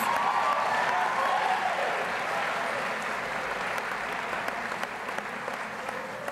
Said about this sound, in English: If we could have a round of applause for all of our juniors.